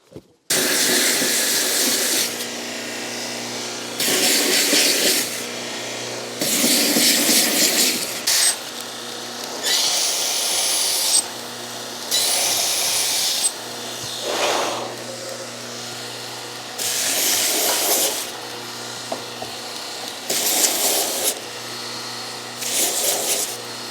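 A power sander works over a wooden table inlaid with turquoise, loud and close, in about ten steady hissing bursts of a second or two each, separated by short pauses.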